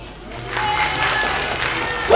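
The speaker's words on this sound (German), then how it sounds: "Applaus!" A burst of applause from a crowd at a breakdance show, clapping swelling after a brief quiet start and holding steady to the end.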